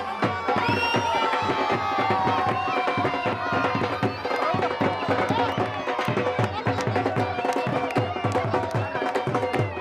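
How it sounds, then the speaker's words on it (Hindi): A dense crowd fills a wrestling arena at a Pakistani arm-wrestling final, with loud, continuous cheering and clapping rolling on without a break. "भरपूर तालियां"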